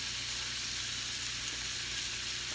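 Shrimp frying in a pan, a steady, even hiss and crackle of sizzling oil that continues unbroken and moderately close.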